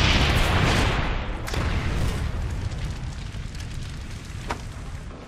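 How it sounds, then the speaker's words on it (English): A napalm airstrike in Call of Duty erupts as a sustained, heavy roaring blast of fire and rumble, loud and continuous with a sharp crack near the end. "Friendly napalm strike on the way."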